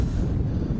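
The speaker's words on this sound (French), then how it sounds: "Aujourd'hui c'est un peu galère à cause des conditions, beaucoup de vent" Strong wind roars across a ski slope at Tignes during speed-skiing training, a loud, continuous buffeting rush battering the microphone for under a second.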